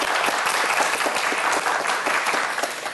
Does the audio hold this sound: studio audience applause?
yes